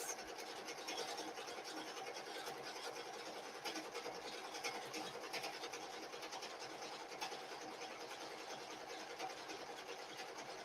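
A machine embroidery unit stitching a design onto Christmas pajamas, a steady, fast mechanical whirring and needle chatter running continuously at an even level throughout, with no voices.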